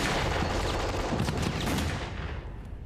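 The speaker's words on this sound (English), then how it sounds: "German rifles, machine guns and mortars pounded the advancing British." Dense battle gunfire from German rifles, machine guns and mortars near Arnhem in the Second World War, a loud continuous roar of overlapping shots and blasts that fades slightly at the end.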